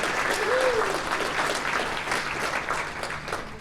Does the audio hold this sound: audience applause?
yes